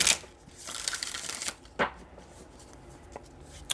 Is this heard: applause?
no